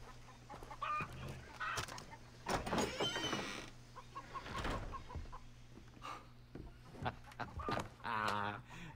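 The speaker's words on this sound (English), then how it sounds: "There's just chickens outside apparently." Chickens cluck in short, irregular bursts outside a shanty hut in the video game Far Cry 3, mixed with game voices and other faint in-game sounds.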